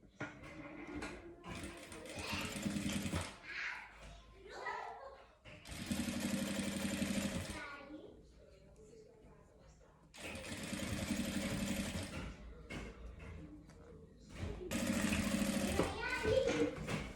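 A domestic sewing machine stitches a seam on a fabric vaccination-card cover in several bursts of rapid whirring, close and loud, separated by pauses where someone talks and cloth is handled.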